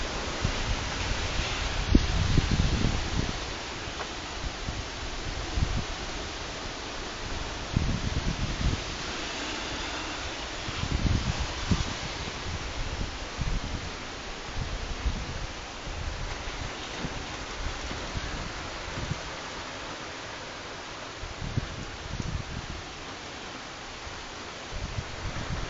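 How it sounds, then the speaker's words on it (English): Wind storm in Merrill, Wisconsin, a steady broadband rush of wind through leaves with repeated louder gusts swelling and fading, no voices. "Listen to that wind."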